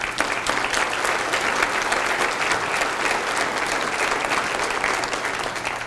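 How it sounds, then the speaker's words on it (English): An audience applauds steadily at a school district State of the Schools address, dense continuous clapping filling the room from start to finish. "please give yourselves a round of applause"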